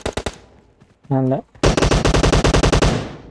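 Rapid automatic gunfire from a video game shooter, a few quick shots at the start, then a sustained loud burst of close machine-gun fire after a brief spoken exclamation.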